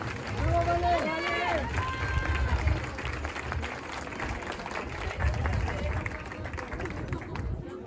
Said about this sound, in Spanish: Fuerte el aplauso para recibir a nuestro tercer lugar.